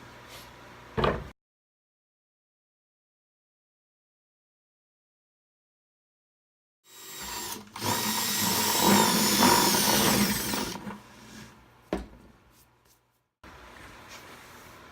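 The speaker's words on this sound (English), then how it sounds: "I'm actually going to drill a hole in the side because I don't want to put it through the cover" A sudden silence gives way to a power drill whining loudly for about three seconds as it bores into the side of a plastic bucket, with brief clunks and handling noises around it.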